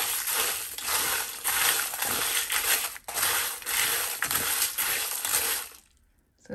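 Roasted spices and asafoetida are stirred in a pan, producing dry, gritty scraping and rustling in repeated sweeping strokes, close and fairly loud, ending in a short near-silence.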